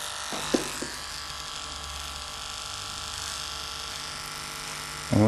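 An Andis hair trimmer buzzes steadily as it cleans up a neck line, a close, continuous electric drone with a few light clicks at the start and a bump at the end.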